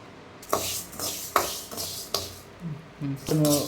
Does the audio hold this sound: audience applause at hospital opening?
no